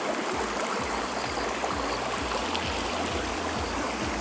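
A Himalayan mountain stream near Mukteshwar rushes in a constant loud roar of flowing water, steady and close, with a faint rhythmic low thumping running beneath it.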